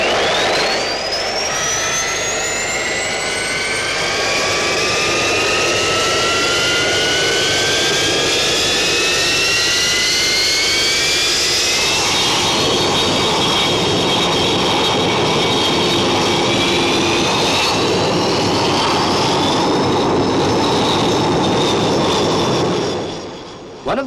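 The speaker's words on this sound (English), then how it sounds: "Stand by to start up all aircraft." Naval aircraft engines start up on a 1960s Royal Navy aircraft carrier deck, a loud jet whine rising steadily in pitch for about twelve seconds before settling into a sustained high roar, with several engines layered together.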